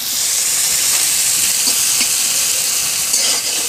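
Chopped onion, bay leaves and panch phoron sizzling in hot oil, a loud, steady, close hiss that holds without a break throughout, with faint spatters and crackles on top.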